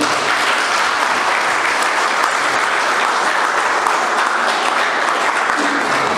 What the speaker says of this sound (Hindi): आप लोग आज की इस पहली तकरीब के लिए ज़ोरदार तालियां बजाएं